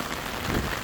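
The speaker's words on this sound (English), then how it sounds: "Wow, the rain's mad." Heavy rain during a storm at Walsall Arboretum makes a brief, dense, steady hiss with no voices.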